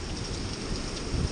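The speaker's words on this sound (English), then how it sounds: "Look at the rain." Rain falls steadily in a soft, continuous hiss, fairly faint and with no voices.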